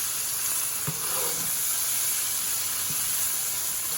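Spaghetti squash mixture sizzles steadily in a hot pan, a constant bright hiss with a few soft clicks of a utensil stirring it.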